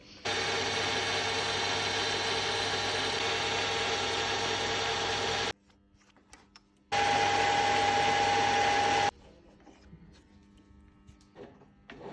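A machine drills out a 2.5 mm hole in a fork adjuster part, a loud steady whirring that runs, stops, then runs again briefly with a higher whine before cutting off into quiet clicks.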